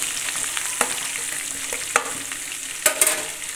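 Curry leaves and coriander fry in hot oil for katachi amti, a close, bright crackling sizzle punctuated by several sharp spatula clacks against the pan, with no speech.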